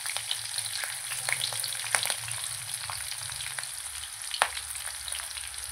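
Four or five slit green chillies fry in hot oil in a pan, giving a steady close sizzle with scattered crackles and a couple of sharper pops; no one speaks.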